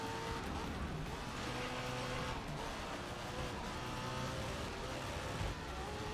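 A race car in the GRID Legends video game revs hard at redline with a dense, buzzing engine note that holds loud and steady under faint background sounds.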